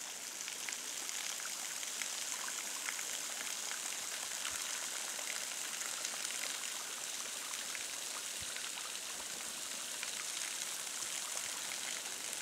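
A small waterfall in a canyon, a stream trickling and dripping off a rock face in thin jets and drops near a grotto, gives a steady, faint, even rush of splashing water with no voices.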